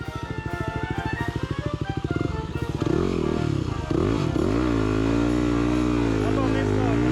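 Yamaha WR250R adventure motorcycle engine pulsing at a low idle, then rising into a strained drone as the clutch is let out to climb onto a log in Watagan State Forest, loud and close with a rider speaking over it.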